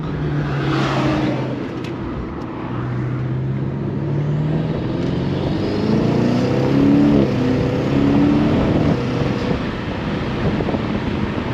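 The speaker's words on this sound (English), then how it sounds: "These Burbles are long." A BMW F90 M5, still warming up, burbles through its exhaust in a long, wavering, throaty drone with shifting pitch, heard from close by and mixed with wind buffeting on the microphone.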